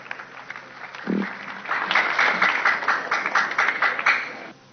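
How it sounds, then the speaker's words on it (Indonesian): An audience applauds a comedy and music group on stage: a brief voice, then clapping swells and holds steadily, bright and moderately loud, over a thin muffled recording. "Tepuk tangan untuk Pelita Group."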